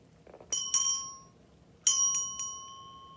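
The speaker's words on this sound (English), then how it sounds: "Let's ring the bell." A small bell rings in two bursts, first two quick strikes and then three, each leaving a bright ringing tone that fades in a quiet room.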